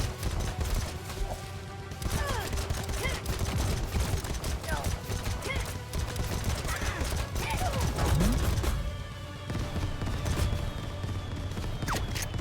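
Gunfire in the video game AK-xolotl: rapid bursts of sharp shots repeating throughout, mixed with clattering game effects and a busy background.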